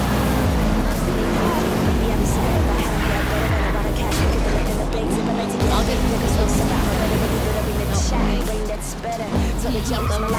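Car engines in Need for Speed Rivals during a police pursuit, a loud continuous roar with repeated rising revs and shifts, voices talking over it throughout.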